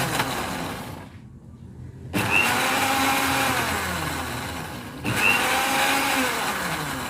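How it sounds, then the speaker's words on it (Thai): Blender whirring gotu kola herbs with water in bursts: a loud motor run, a pause of about a second, then two more blending runs whose pitch rises and falls as the blades spin up and settle. "น้ำใส่ก่อน แล้วเราก็จะปั่น การปั่นสมุนไพรก็จะปั่นหยุดปั่นหยุดค่ะ"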